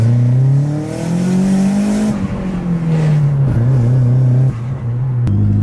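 A VW Golf GTI MK4 engine revs loud and close, its pitch climbing then easing back with a brief dip near the end, steady drone otherwise without talk.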